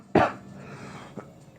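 A single sharp, loud cough from one person bursts out near the start, followed by quieter room noise and a fainter second throat sound about a second later.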